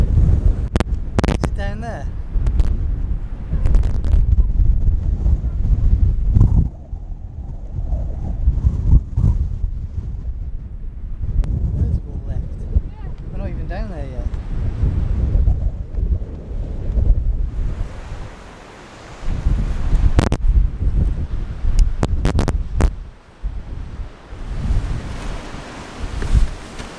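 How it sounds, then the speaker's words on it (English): Strong wind buffets the microphone out at sea on a boat, with waves washing beneath the gusts and voices talking now and then over the steady roar. "It's getting windier, of course, as we go further out."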